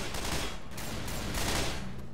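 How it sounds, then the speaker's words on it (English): Continuous gunfire in Left 4 Dead 2, dense rapid overlapping shots forming a steady loud roar with brief dips, close and unbroken. "I'm gonna keep frickin' shooting you"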